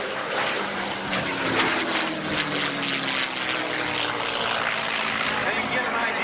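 A P-51 Mustang propeller aircraft roars through a loop at an air show, with a steady, loud engine drone filling the whole stretch and a voice talking over it.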